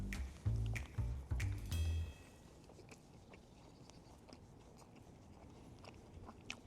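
A big bite of crispy rice topped with chicken and sauce, giving a few close, loud crunching bites in the first two seconds, followed by quieter chewing.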